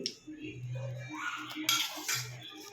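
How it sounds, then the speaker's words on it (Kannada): A metal pressure-cooker lid is fitted and closed during cooking of sprouted chickpea and green gram sambar, producing a few sharp close clanks and clinks, with a voice briefly in the background. "ಇವಾಗ ಕುಕ್ಕರ್ ಮುಚ್ಚಿಬಿಡೋಣ."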